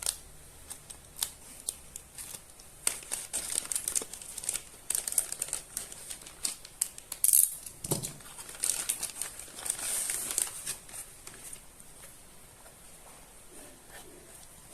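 Plastic wrapping around a tempered glass screen protector package crinkles and rustles up close in irregular bursts as it is unboxed, tapering off into quieter handling near the end.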